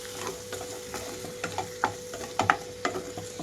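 Dry potato fry being mixed in a pan with coriander and green chilli, soft sizzling under repeated scraping strokes of a spoon against the pan, rising toward the end.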